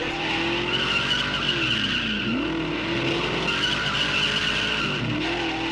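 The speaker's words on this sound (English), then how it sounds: "being entertained by some donut action" Continuous tire squeal and skidding as a car does donuts, spinning in circles, with a steady engine roar underneath, loud and sustained throughout.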